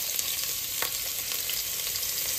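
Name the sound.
garlic frying in hot oil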